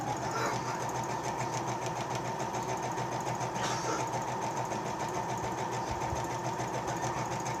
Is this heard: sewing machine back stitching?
yes